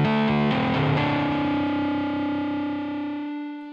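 A virtual electric guitar in FL Studio runs through a new distortion effects chain, a few quick heavily distorted chord hits followed by one sustained chord ringing out and slowly fading, with no voices.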